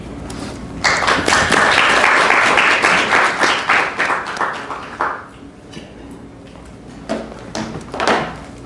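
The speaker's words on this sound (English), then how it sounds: "Another round of applause for Ella and Sophie." An audience at an academic conference session on protest and politics claps steadily for about four seconds, then the applause thins out and trails off. A few scattered claps and knocks follow near the end.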